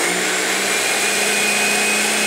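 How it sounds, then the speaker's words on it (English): A kitchen blender runs with a loud, steady, close whir that holds at an even pitch throughout. "like a blender. I mean, it is a blender."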